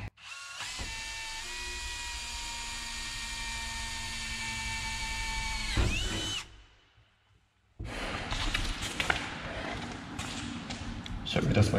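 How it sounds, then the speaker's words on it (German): Power drill whines through a cardboard template into a camper van wall, a steady high-pitched run of about six seconds that winds down, followed after a pause by rougher handling and clatter. "Jetzt werde ich ein Loch hier durchbohren, damit ich auf der anderen Seite die Schablone dann genauso ansetzen kann"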